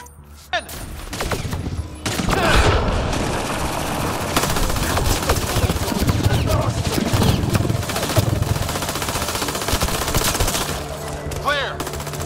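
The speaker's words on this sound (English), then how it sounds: "Grenade" Sustained automatic gunfire crackles through a Mass Effect: Andromeda firefight, a sharp blast near the start leading into dense, continuous rattling volleys that run loud for about ten seconds before easing off, with no voices.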